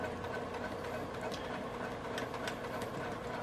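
A sewing machine stitching fabric for an origami tote bag hums and whirs steadily and close by, with a few light clicks over the run.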